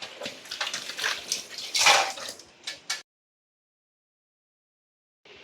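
Dosa batter poured onto a hot pan makes a wet, splashy, sizzling rush for about three seconds, then cuts to silence.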